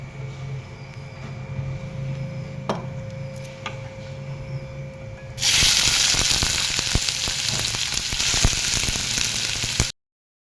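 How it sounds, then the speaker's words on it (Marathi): After a few seconds of quiet kitchen hum, onion hits a hot pan and a loud, dense sizzle erupts, holding steady for about four seconds before cutting off abruptly. "इथं आपण आता कांदा भाजून घेऊया"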